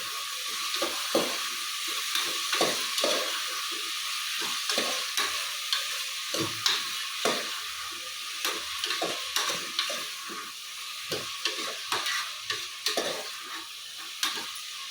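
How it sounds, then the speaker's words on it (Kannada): Mixed vegetables for vegetable pulao sizzle in a hot pan under a steady hiss, with a spoon scraping and stirring in regular, close strokes throughout. "ಇದು ಹಾಕಿ ಚೆನ್ನಾಗಿ ಬಾಡ್ಸ್ಕೊಳ್ಬೇಕು"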